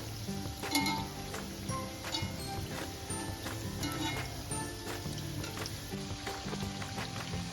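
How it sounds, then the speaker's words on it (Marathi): Onion pakoda (bhaji) fry in hot oil after being flipped, a soft steady sizzle with scattered light clinks, close but quiet. "आता आपण पलटी करायची भजी, दुसरी साइड आपण भाजून घ्यायची।"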